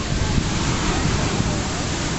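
Surf at Barra do Jucu beach on a sunny Sunday, a continuous loud wash of breaking waves filling the whole clip, with a voice talking over it.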